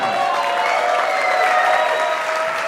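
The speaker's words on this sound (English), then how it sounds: "Give Rose a huge round of applause" A crowd applauds for an honoree at a summer jazz workshop symposium, with dense, loud clapping filling the whole stretch and a hint of cheering beneath it.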